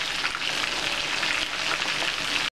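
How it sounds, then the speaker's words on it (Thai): Fish frying with turmeric in plenty of oil over medium heat gives a steady, close hiss and crackle that runs evenly without pause until an abrupt stop. "เราใช้น้ำมันอย่างนี้นะคะ และใช้ไฟ กลางนะคะในการทอดค่ะ"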